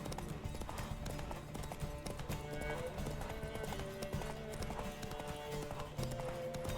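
Rapid hoofbeats of a galloping horse in The Witcher 3 video game pound steadily throughout, mixed with in-game music and effects while a player talks over them.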